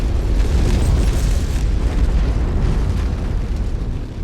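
A loud, sustained explosion in the MechWarrior 5 video game as a target is destroyed, a dense, rumbling roar that stays heavy for several seconds without letting up.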